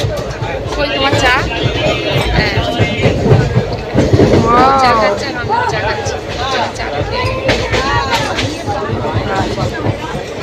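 Inside a moving passenger train, a steady rattling rumble runs under chattering passengers and calling vendors, with voices close and overlapping throughout.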